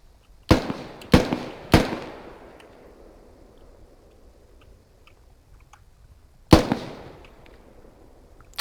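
Gunfire in the military shooter game Squad: three sharp reports in quick succession, then a pause and one more loud crack, each with a short echoing tail, with no voices.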